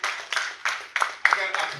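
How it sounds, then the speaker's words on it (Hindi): Audience at a Hazara United cricket award ceremony claps for the team captain, a short burst of rhythmic, fairly close applause under a voice speaking over it. "बहुत सारी ताली होनी चाहिए सरफराज भाई के लिए"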